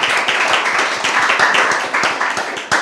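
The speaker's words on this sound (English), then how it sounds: "applause" Loud, close applause from an audience at an entrepreneurship showcase event, dense rapid clapping that swells and dips slightly before a sharper burst near the end; no talking.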